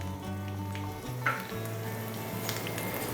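Dried red chillies dropped into hot oil after mustard seeds have popped, for a curd rice tempering: a steady close crackling sizzle with a small sharp pop partway through, no talk.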